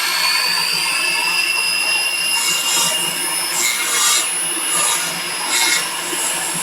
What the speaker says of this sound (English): I think it's a Cratex wheel or something like it.